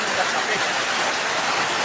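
Steady rain pours down in an even, close hiss with no break, filling the whole moment.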